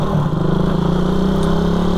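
A motorcycle engine runs steadily on a test drive after a mechanic's repair, with a loud, close, continuous low drone and a throbbing mid-range hum, with no voices.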